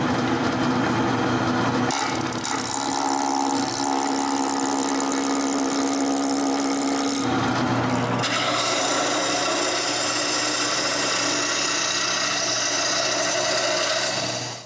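Wooden dresser leg being turned in a woodworking shop, a steady loud whirring motor with scraping and rasping cutting noise that shifts in tone twice along the way, no talk.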